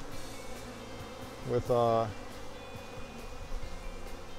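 Honey bees from an agitated, defensive hive buzz around the listener in a steady low drone. A voice speaks briefly over the buzzing partway through.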